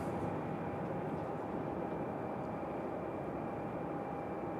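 Copa Airlines jet on final approach arriving from Panama City at Raleigh Durham airport, a faint distant steady engine hum and whine holding evenly throughout.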